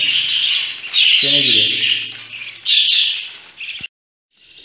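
A pet budgerigar chirps in quick, bright, close tweets and chatter that run nearly all the way through, with a short pause near the end, while a person speaks briefly over it.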